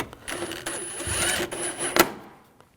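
Screws are driven into the air box of a 2007-2013 BMW 328i with a 3.0L inline-six, a close whirring tool burst with a few short pauses and a sharp click before it stops.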